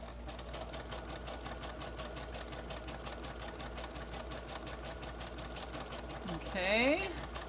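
A sewing machine stitches through four stacked layers of paper cardstock, running a steady, fast mechanical whir from start to finish with a short burst of speech near the end.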